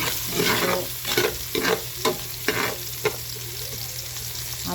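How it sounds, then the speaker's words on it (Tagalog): Garlic and onion sautéing for dinuguan, a continuous sizzle broken by several rhythmic scraping strokes of a spatula against the pan, close and fairly loud, with a brief spoken word. "Gigisa po tayo ng bawang, sibuyas"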